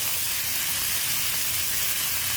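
Pork belly sizzles and crisps in a hot pan, a dense, loud, unbroken hiss of spitting fat filling the whole moment with no pauses.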